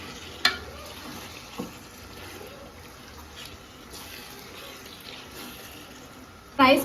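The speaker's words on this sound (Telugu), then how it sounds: "చికెన్ నేను కొంచెం ఫ్రై చేసేస్తున్నాను" Chicken frying in a pan for biryani makes a low, steady sizzle, with a few sharp clanks of a spoon on the pan, one near the start and a louder scrape at the end.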